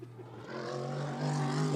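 Mercedes GT3 race car on track at Blyton Park: a faint, distant engine note rising in pitch as it accelerates over a brief moment.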